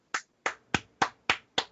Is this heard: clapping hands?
yes